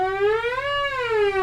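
A single voice imitates a siren as a vocal exercise, one smooth tone sliding up and back down through a long range, clear and close.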